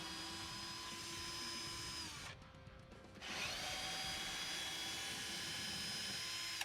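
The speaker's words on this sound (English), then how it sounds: "Now we can remove the 2 10mm bolts." A power tool spins out 10mm bolts from a GM truck's grab handle, a steady whirring drive that cuts off briefly, then resumes, heard close and alone.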